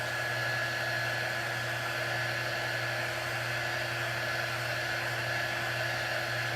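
A hair dryer blowing on a handmade craft door tag, a loud, steady whirring roar with a constant hum that runs unbroken throughout.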